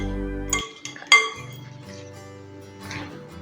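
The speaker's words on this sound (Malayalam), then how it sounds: "ഇതിലേക്ക് ചിക്കൻ ഇട്ട് കൊടുക്കുക. ഒരുമിച്ച് നല്ലപോലെ മിക്സ് ചെയ്യാം." Chicken and vegetables for a chicken cabbage salad are mixed in a bowl, with a few bright clinks of utensil on the bowl, then a soft low hum and faint rustling.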